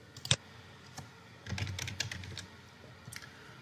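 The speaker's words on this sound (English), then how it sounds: "we can leverage the built-in console menu and type in vulns" A computer keyboard typing a command: a sharp key tap, then a short close burst of rapid keystrokes, a pause and a few final taps, clear in a quiet room.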